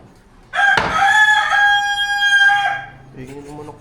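A rooster crows once, loud and close, a long rising then falling cock-a-doodle-doo lasting about two seconds, followed by softer clucking in a quiet outdoor setting in the Philippines.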